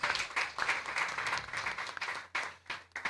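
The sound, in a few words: audience clapping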